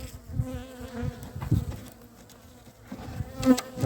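Honeybees buzzing close around a hive frame during a spring inspection of a weak overwintered colony, a steady droning hum swelling and fading in waves, with no talk.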